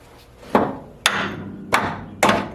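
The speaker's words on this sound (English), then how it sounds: "I'm going to have to hit that with hammer to break it." Four sharp metallic hammer strikes on the lower part of a Mercedes W108/W109/W113/W111 engine mount, at an uneven pace, each a close, loud clang with a short ringing decay.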